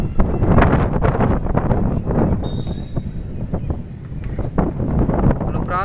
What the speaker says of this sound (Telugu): భయం పుట్టించేటువంటి వాతావరణం, గాలి వాన